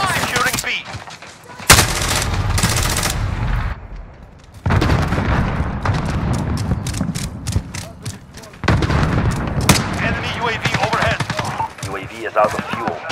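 Sustained bursts of gunfire and heavy explosive booms fill a multiplayer military shooter match, with rapid automatic rounds and louder blasts arriving in waves, briefly dropping away before resuming at close range.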